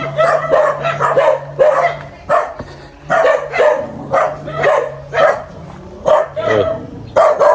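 A pack of neighborhood dogs barks nearby in sharp, repeated bursts with short gaps, mixing deeper woofs and higher yips over a low constant hum.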